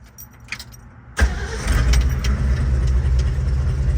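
Keys jingle faintly, then a 1967 Ford Bronco engine cranks and catches with a sudden burst, settling into a loud, rough idle close by.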